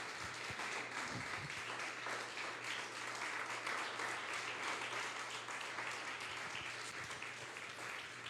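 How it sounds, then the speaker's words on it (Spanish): Sustained congregational applause at a church Easter service, a dense, even wash of many hands clapping that holds steady throughout. "si puedes darle un aplauso al Rey de Reyes y Señor de Señores"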